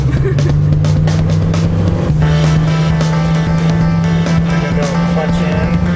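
A car engine runs steadily with a sustained hum as the driver gives light gas in first gear, the tone holding near and loud without a sharp climb, over continuous background noise.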